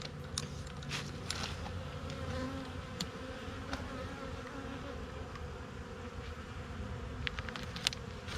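Honey bees buzz around an opened hive, a dense continuous hum close by with scattered louder passes of individual bees and faint handling taps.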